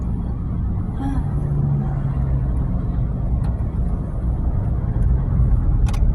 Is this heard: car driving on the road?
yes